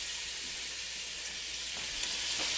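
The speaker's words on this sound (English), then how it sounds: "Stir that around a little bit." Garlic sizzling in hot fat in a pot for smoke house chili, a continuous close hiss with a few faint spoon stirs near the end and no voices.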